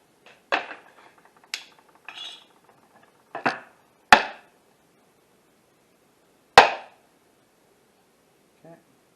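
Several sharp knife chops on a cutting board as drained mushrooms are cut smaller for meatless stuffed shells, spaced irregularly with quiet gaps, close and fairly crisp.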